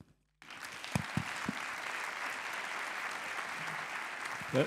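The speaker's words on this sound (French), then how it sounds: "Je souligne que vous êtes aussi applaudi" An audience bursts into steady applause after a speech at a French debate, starting abruptly with a few louder claps, then a sustained even wash of clapping that carries on throughout.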